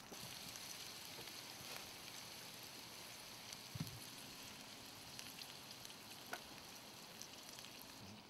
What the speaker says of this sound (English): We have put the pepper in the pan and we're going to start frying things.